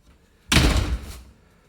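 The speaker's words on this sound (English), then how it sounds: "once we close this door" A door in a house swings shut with a single solid thud and a short rumbling rattle that fades over about half a second, heard close with no talking.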